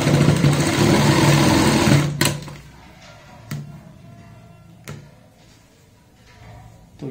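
Sewing machine running steadily while stitching a girl's designer top, a continuous close whirring motor for about two seconds that stops abruptly, followed by a few faint clicks and handling knocks.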